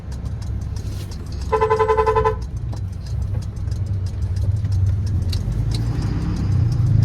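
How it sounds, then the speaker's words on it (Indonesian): A car overtakes on a highway while road rumble runs throughout, with a brief horn blast and steady ticking from an indicator. "Itu mobil ngesen kok pakai acara malah nyalip, nggak jelas."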